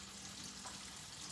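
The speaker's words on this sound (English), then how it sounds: "while that is frying, because it's just gonna take a few minutes per side" Chicken cutlets fry in a pan over medium-low heat, giving a steady, even sizzle and crackle of hot oil with no voices.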